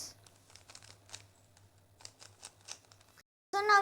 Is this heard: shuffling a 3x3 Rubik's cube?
yes